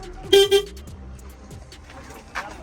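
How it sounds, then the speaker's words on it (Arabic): Short horn toots from a small single-seat cargo car with storage space, two quick honks close by, then a faint later toot amid quiet clicks and handling noise. "وبعدين هنا الكلاكس"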